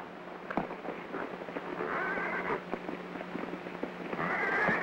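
In a 1930s Western setting, a black stallion whinnies in long shrill bursts while hooves clip-clop in an uneven rhythm nearby, moderately loud against a steady background hum.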